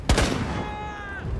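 Gunfire in the tactical shooter Rainbow Six Siege, a sharp close burst at the start followed by a ringing decay and faint whistling tail.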